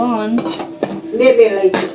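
A spoon stirs and scrapes a pan of vegetable tempering with peas frying in oil, several sharp metallic strokes over a soft sizzle, heard close with a voice speaking between the strokes.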